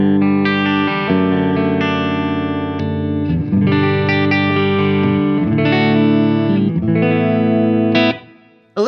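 A distorted electric guitar through a Wampler Pantheon Deluxe overdrive pedal into a Fender Blackface-style amp plays sustained chords, ringing loud and thick with a short break near the end.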